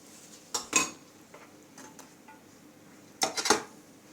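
A utensil knocking and scraping against a bowl while stirring a vanilla-flavoured mixture, two short clusters of clinks separated by quieter gentle stirring, close and alone without speech.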